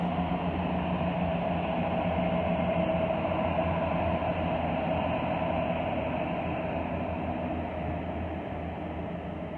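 A steady, loud rumble of a Southern Railway train pulling away from the platform at Exeter Central station, continuous broadband noise holding level throughout with no voices.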